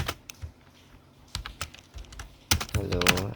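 Someone types HTML code on a computer keyboard, with close, crisp key taps in uneven bursts that speed into a denser run of keystrokes at the end.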